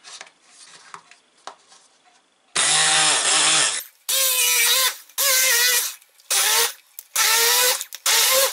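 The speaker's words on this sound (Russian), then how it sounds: "соковыжималки у меня нет, поэтому воспользуемся погружным блендером" An immersion blender whirs in loud, repeated bursts, each a few seconds long with short pauses between, after some quiet clinking at the start.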